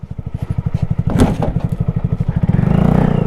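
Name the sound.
motorcycle crashing into a truck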